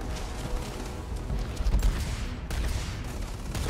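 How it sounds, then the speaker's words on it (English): Gunfire in the video game Starfield crackles in dense, rapid bursts, a continuous barrage of shots and impacts with no talking over it. "Who's shooting at me?"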